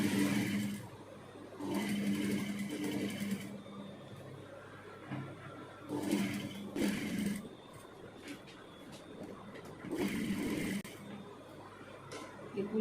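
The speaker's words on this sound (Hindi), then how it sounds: "एक सिलाई लगा लेंगे किनारे पे।" A sewing machine stitches along the edge of a kurti in several bursts of rapid whirring, separated by short pauses, with someone talking softly between runs.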